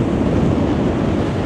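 Strong wind roars across the Blackpool promenade as a dense, steady rush of buffeting noise, loud and close, with no voices.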